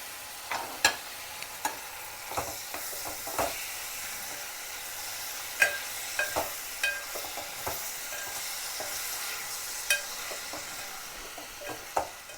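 Tomatoes frying in a pan for a Telugu brinjal curry, a steady soft sizzle under repeated sharp scrapes and knocks of a spoon stirring against the pan, close and moderately loud with no talking.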